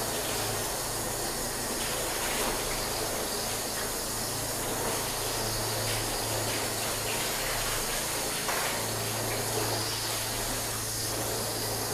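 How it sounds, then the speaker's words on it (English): Loud, steady rush of water rinsing sealant-coated test panels, a broad continuous spray with a low hum underneath, close and unbroken throughout. "Just make sure we thoroughly rinse."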